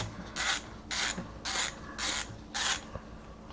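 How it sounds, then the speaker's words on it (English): A ratchet wrench loosening screws on an Audi A6 B5 engine during camshaft removal, five evenly spaced bursts of rapid clicking close by, separated by short quiet gaps. "I went ahead and loosened all my screws."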